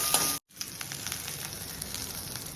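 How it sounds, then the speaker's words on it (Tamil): Asafoetida, garlic, dried chillies and shallots crackle in a hot pan, a faint, even sizzling hiss with a brief cut to near silence early on, then continuing softly and steadily up close. "பெருங்காயம், பூண்டு, காஞ்ச மிளகா எல்லாத்தையும் போட்ட வேண்டியதான்."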